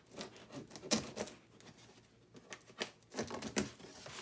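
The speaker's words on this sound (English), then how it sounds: "What I got is more tape." Packing tape peeled and torn off a cardboard shipping box, several loud close rips and crackles in bursts with softer rustling in between.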